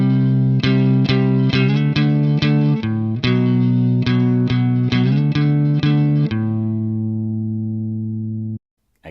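An electric guitar with effects plays two bars of a classic riff, rhythmic chugging chords in a steady pulse that end on a long, decaying held chord, loud and close with no voices.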